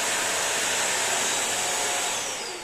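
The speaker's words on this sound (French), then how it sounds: "Là je le penche, la brosse se met à tourner." A Bissell Crosswave PetPro wet vacuum runs with its brush roll spinning as the unit is tilted, a loud, steady close whirring drone that eases slightly at the end.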